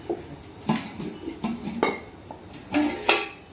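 A cooking pot is set down for a mother's goat head meat curry, giving several close metallic clanks and clinks at irregular intervals, the loudest near the end, with no talking.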